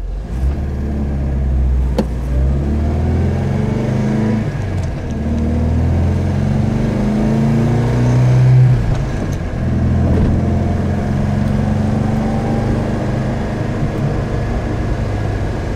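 A 1977 MGB sports car on fresh new tires drives along, its mid-pitched engine droning steadily with gentle rises in revs as it accelerates and shifts, loud and close throughout with road rumble beneath.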